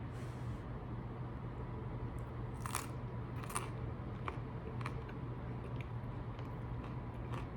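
An oven-baked jalapeño is bitten and chewed up close, with a few crisp crunches early on followed by softer, irregular chewing clicks over a constant low hum.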